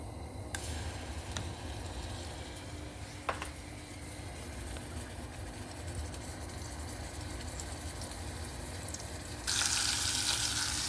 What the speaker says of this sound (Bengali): তেল গরম হয়ে আসলে এখন আমি প্রথমে দিয়ে দিব 2 চা চামচ রসুন